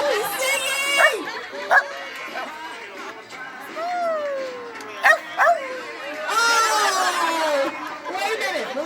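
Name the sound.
dog singing along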